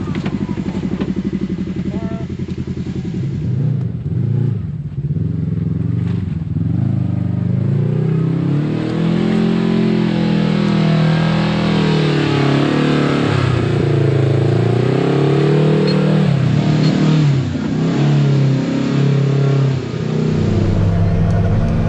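A Kawasaki Teryx5 H2 UTV engine revs hard and continuously on a trail, rising and falling in pitch as the machine works with only one front wheel spinning, loud and close throughout.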